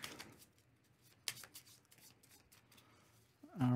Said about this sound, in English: Let me make sure I shuffle this up good.